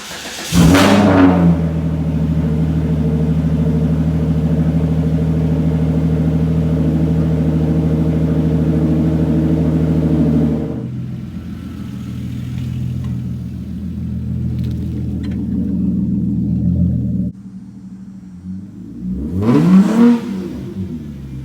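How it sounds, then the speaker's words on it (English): A car engine starts with a sharp crank and catch, then idles loud and steady with a deep rumble, drops to a softer idle, and revs briefly again as it pulls out of a garage, no talk. "let's go ahead and get the car started, pull it out of the garage"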